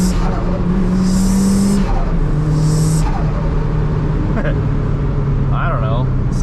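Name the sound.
car turbo flutter sound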